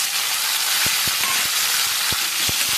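Chopped tomatoes hitting hot oil with five-spice seeds, a loud steady sizzle close up with a few soft pops and stirring knocks underneath.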